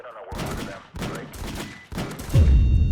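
Bursts of gunfire in the video game Random Mafia Shooter come in several close, loud volleys with short gaps between them, the heaviest and most booming burst arriving near the end.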